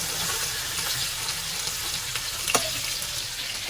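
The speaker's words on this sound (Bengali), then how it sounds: "তো আমি সবগুলো মাছ দিয়ে দিলাম, হালকা করে এখন ভেজে নিব।" Sea snakehead fish (shol) pieces frying lightly in hot oil, a steady close sizzle with a brief clatter partway through and no talking.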